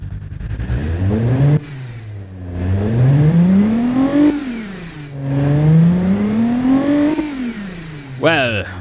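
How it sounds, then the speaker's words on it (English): A small hatchback engine in the video game Automation revs up and falls back in repeated sweeping surges, loud and close, with a brief higher whine at the end. "what would you say if a little hatchback with that engine sound came towards you?"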